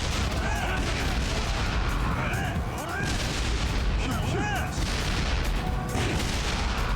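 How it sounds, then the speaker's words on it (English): Rockets fired at grenadiers in the Yakuza Kiwami 2 video game, a dense stream of booming blasts and gunfire layered with whooshing projectiles, continuous and fairly loud. "Let's shoot rockets at him."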